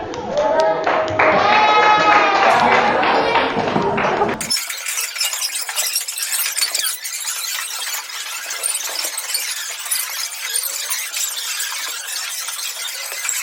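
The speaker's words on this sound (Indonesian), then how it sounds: "tepuk tangan untuk Latif." Students in a mathematics classroom applaud a classmate, with lively sustained clapping from many hands filling most of the clip after a teacher's voice.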